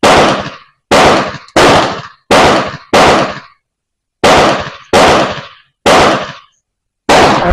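Eight loud, close gunshots from an 1886 Mannlicher rifle, each a sharp blast with a decaying tail, fired at roughly even intervals with a couple of longer pauses between them.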